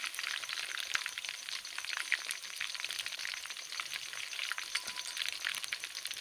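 Shami kebabs sizzle and crackle steadily in hot oil in a pan, a continuous close frying hiss with dense popping and spitting and no talk over it.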